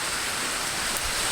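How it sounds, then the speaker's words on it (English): Steady rain falling outdoors, a dense even hiss with no voices, soft and continuous through the short stretch. "starting to get some rain."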